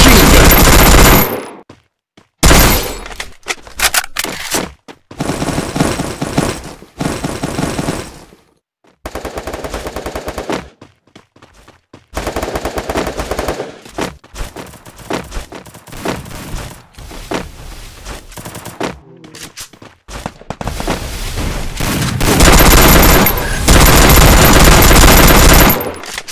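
Heavy machine gun fire in a mobile video game, loud sustained bursts broken by sharp silences, close and harsh with long runs of rapid shots.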